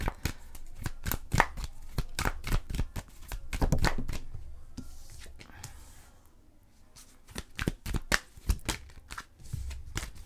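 Tarot cards shuffled by hand in a series of quick, crisp riffling bursts, close and fairly loud, with a brief quieter pause in the middle before the shuffling resumes.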